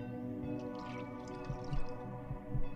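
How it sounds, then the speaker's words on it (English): Water trickling and dripping into a bottle in the video game Fran Bow, soft liquid splashes and drips over a sustained tonal music bed, a few clearer drops toward the end. "We gotta fill up the bottle with water."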